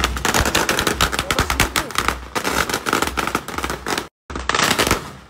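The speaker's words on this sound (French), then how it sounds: "ils leur jettent des pétards sous les pieds" Firecrackers are thrown under people's feet at a street event in Thailand, with dense, loud, rapid bursts of popping and crackling that break briefly before resuming.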